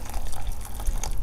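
Water poured into a Spanish military MRE ration soup, a steady close splashing and trickling fill lasting about a second with no talk.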